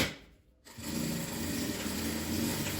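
A domestic sewing machine running steadily as it stitches reinforcing seams on a denim apron made from old jeans, a continuous whirring hum that starts after a brief pause and holds evenly near the listener.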